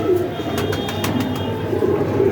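A pigeon coos softly in a few low repeated calls during a rooftop pigeon-keeping session, with steady background noise and faint clicks above.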